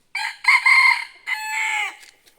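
Small roosters crow loudly in two long, harmonic calls, close by, with a few faint clucks trailing off at the end.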